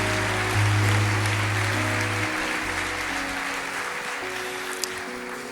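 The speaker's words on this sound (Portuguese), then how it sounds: "Aplauda o Senhor, igreja" A church congregation applauds in a large worship space, a broad wash of clapping sitting under sustained low organ or keyboard tones that fade partway through.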